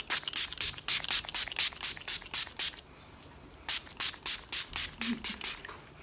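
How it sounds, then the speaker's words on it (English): Primark Prep and Perfect Performance and Setting Mist spraying in quick close bursts, a run of about a dozen rapid hissy pumps, then a pause and another train of pumps. "I'm gonna use this Primark Prep and Perfect Performance and Setting Mist."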